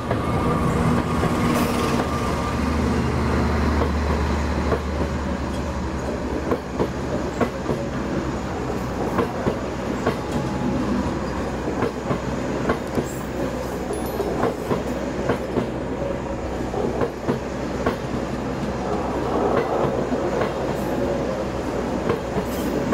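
A train passes steadily for a long stretch on an Indonesian railway line, with a continuous rumble and rhythmic clickety-clack of wheels on rail joints, no talking.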